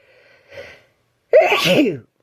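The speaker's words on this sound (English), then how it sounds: "I'm going to keep sneezing" A single loud, close sneeze, preceded by a soft intake of breath, then silence.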